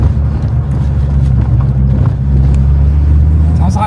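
A Volvo S60R T5 five-cylinder engine with a new exhaust drones loudly and steadily at close range, a deep, even rumble that holds throughout with little change in pitch.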